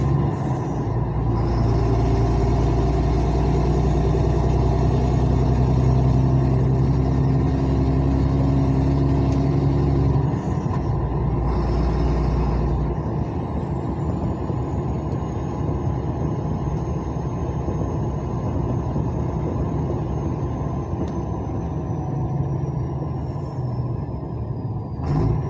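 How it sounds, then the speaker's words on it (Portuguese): A car with a burst exhaust manifold drives away, its loud, rough engine rumble and roar continuous and close at first, then fading as it leaves. "Aí vai embora agora com o escapamento desse jeito"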